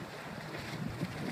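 On the Mediterranean Sea off Türkiye, a motorboat tows an inflatable donut boat, its engine a low rumble under loud wind buffeting and splashing water for a brief moment.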